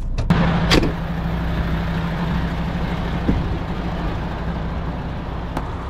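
A semi-trailer truck idles and rumbles at low speed as it comes to a stop during a manoeuvre exam, with a steady engine drone, a faint hiss and a few soft clunks.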